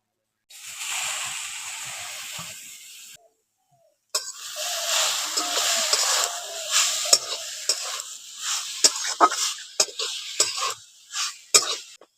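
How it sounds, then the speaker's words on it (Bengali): Freshly grated coconut hits a hot wok with a burst of hissing sizzle, followed after a brief pause by vigorous stirring. Close scrapes and taps of the spatula ring against the metal, and the sound grows more rhythmic toward the end. "এখন গরম কড়ার মধ্যে নারকেল কুড়োটা দিয়ে দিচ্ছি।"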